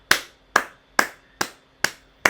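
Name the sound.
hands clapping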